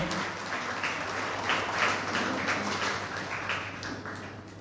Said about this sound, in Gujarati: આપણે નિકુંજભાઈને તાળીઓથી વધાવીએ.